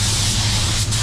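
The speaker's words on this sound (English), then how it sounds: "I'll put the blowers on this to make sure it's dry." Paint-drying blowers give a steady, loud broadband rush of air close by, unbroken except for a tiny dip near the end, with no voices.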